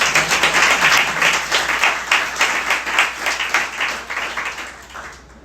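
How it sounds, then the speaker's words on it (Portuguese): A church congregation applauds at a Nova Vida service in Catete, a dense sustained round of clapping that swells, holds steady for several seconds, then tapers off toward the end. "Uma salva de palmas ao Senhor."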